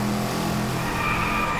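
Koenigsegg Regera tyres skidding as the car slides into oversteer in the Driveclub racing game, a steady loud tyre screech over engine drone, continuous for the short stretch with no talking.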